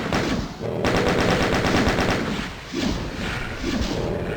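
Video game turrets fire rapid bursts of gunfire, dense and loud with repeated thumping volleys.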